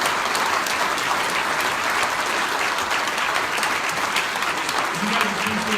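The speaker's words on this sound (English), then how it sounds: "Please give these gentlemen a round of applause." A crowd applauds firefighters at a Grand Rapids fire department awards ceremony, sustained dense clapping filling the hall at an even level, with a voice briefly heard under it near the end.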